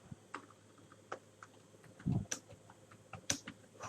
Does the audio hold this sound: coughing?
no